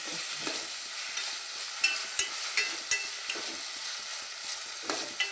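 Small chopped tomato pieces frying in a pan for a fish and ivy gourd curry give an even, close sizzle, broken by a string of light spoon taps and scrapes as they are stirred, with no talking.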